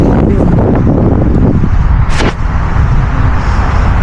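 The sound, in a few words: strong wind blowing outdoors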